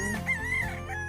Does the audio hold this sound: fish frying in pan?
no